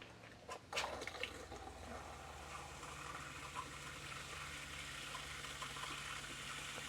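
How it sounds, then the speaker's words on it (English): Water runs steadily from an RV faucet, a continuous hissing flow with a brief louder gush near the start, fairly close and alone. "go to our faucets and turn the faucet on"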